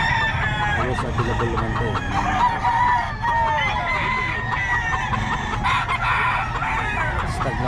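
A young rooster, a stag, crows and clucks close by, with other chickens chattering around it, and it is busy and loud throughout. Someone speaks briefly over the birds.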